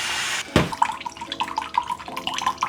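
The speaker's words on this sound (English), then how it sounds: "we're gonna add the mirin" Mirin is poured into a pan with green onion for chicken teriyaki, a short trickling splash after a sharp clink, close and soft, with faint drips following.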